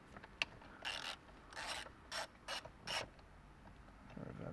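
Loosening T40 Torx bolts on a Z1 steering wheel fitted to a G37: several short, close rasping, ratcheting turns of the driver in separate bursts, with no talking.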